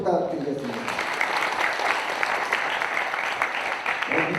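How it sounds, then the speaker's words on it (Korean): An audience at a civic education event applauds with dense, steady clapping throughout, a voice briefly audible at the start and near the end. "김관한 본부장님께 다시 한번 큰 박수 부탁드리겠습니다"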